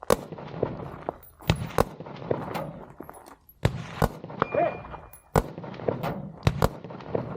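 Rifle shots ring out at steel targets during a desert shooting match stage, as sharp cracks in uneven bursts with short pauses between them, loud and close.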